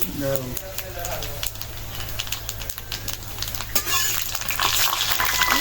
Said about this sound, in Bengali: এখন কালো জিরা দিব দাও কালো জিরা হুম একটা তেজপাতা দিয়ে দিই